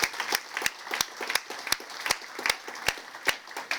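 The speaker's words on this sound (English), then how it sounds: "let's give him a round of applause" An audience at a city State of the City event applauds, with crisp, regular claps standing out over a soft wash of crowd clapping that carries on evenly throughout.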